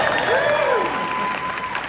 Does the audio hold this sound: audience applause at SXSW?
yes